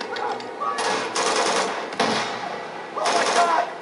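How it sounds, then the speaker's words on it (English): Rapid automatic gunfire in Uncharted 2 as enemies shoot at a monster, several loud sustained bursts with short gaps between them, close and busy, with a voice speaking over the action. "Not shooting me, are they? So they're shooting that monster."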